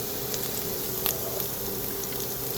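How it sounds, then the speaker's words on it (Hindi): Ginger sautéing in a pan for a strawberry chutney makes a steady, even sizzle that stays close and constant throughout. "ये अदरक जो है फ्राई हो रही है, इसको सौते करेंगे।"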